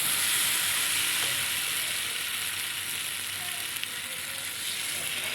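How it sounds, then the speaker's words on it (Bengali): Prawns fry with spices in a pan for a Bengali taro stem curry, giving a steady, close hiss of sizzling oil that holds throughout, with faint scrapes of stirring. "চিংড়িটা দিয়ে আর একটু কষিয়ে নেব"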